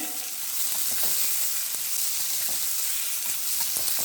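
Onions frying in a pan as part of cooking vazhakkai podimas, a steady, close sizzle with faint crackles running evenly throughout, no voices.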